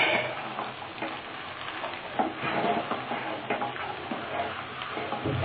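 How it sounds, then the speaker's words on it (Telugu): Coconut halwa with melting jaggery is stirred steadily in a pan over a low flame, giving a continuous dense scraping and bubbling with small irregular clicks of the spoon. "సిమ్లో పెట్టుకొని కలుపుతూనే ఉండాలి."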